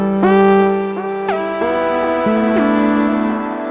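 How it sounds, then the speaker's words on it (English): Notes from a Motorsynth Mk2 synthesizer run through a Walrus Mk2 delay pedal glide and step between pitches, each change trailed by fading echoed repeats, a bright buzzy tone played alone and close. "Now I'm just going to enable a little bit of delay here from the Walrus Mk2"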